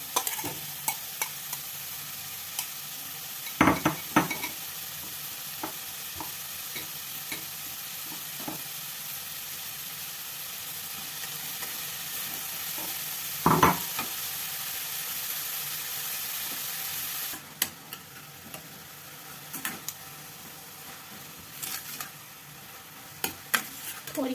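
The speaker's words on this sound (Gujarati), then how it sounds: "સહેજ ઘી ગરમ થાય એટલે એમાં દૂધી ખમરેલ છે એ નાખી દેવાની" Grated bottle gourd frying and being stirred in hot ghee for a milk-free halwa, with a steady sizzle and occasional sharp spoon scrapes against the pan, close and alone.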